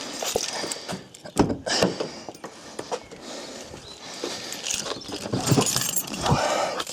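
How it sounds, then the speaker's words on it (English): A bunch of car keys jangling and clinking in irregular bursts close by, in a home garage during a Honda B18 engine build, with a few dull knocks between the rattles. "Keys."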